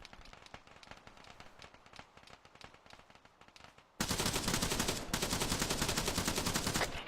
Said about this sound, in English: Oh wait, no, it's cannon.